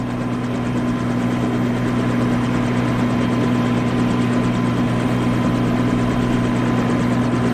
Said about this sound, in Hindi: हेलीकॉप्टर में पहली बार है?